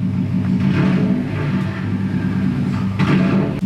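A stock Subaru WRX/STI fitted with a blow-off valve holds a loud, steady rev on launch control, a close droning engine note that keeps the same pitch throughout.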